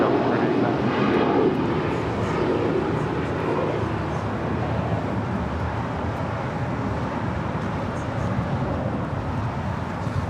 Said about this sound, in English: The Japan Airlines 777-300ER heading back to Tokyo, heading to the north side for a departure at 24 left